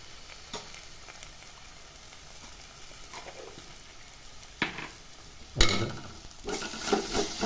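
Garlic paste with ginger stirred and frying in a pan for a green chicken dish, a low steady sizzle under scattered spoon scrapes, then louder clanks and a stronger hiss near the end, no talk.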